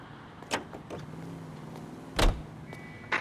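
A car door and engine in the L.A. Noire video game: a faint engine hum runs underneath while several sharp door clunks and thuds stand out, the loudest near the middle.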